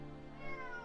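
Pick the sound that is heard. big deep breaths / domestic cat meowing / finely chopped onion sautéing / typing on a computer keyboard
domestic cat meowing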